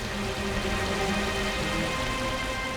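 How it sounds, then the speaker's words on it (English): A torrential downpour pours over Seoul, South Korea, a dense and steady hiss of heavy rain that stays loud and unbroken throughout. "a torrential downpour in Seoul"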